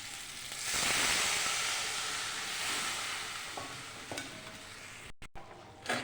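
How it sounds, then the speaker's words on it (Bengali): Water poured onto fried spice paste (turmeric and ground spices) in a pan for a fish curry with bitter gourd and potato, raising a loud sustained hiss and sizzle that gradually softens, with a few stirring clinks near the end. "জল দিয়ে দিচ্ছি।"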